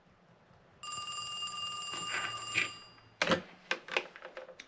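A telephone bell rings loudly in a steady electronic trill for a couple of seconds, then stops; clicks and handling knocks follow as the phone is picked up.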